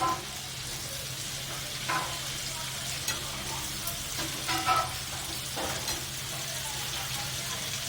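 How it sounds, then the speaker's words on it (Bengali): Potatoes and onions sizzle quietly in a hot pan, with a few soft stirring scrapes and clinks breaking the steady frying hiss. "এবার আস্তে আস্তে আলুটা ভাজা হবে, তার সাথে পেঁয়াজ দেওয়া হচ্ছে।"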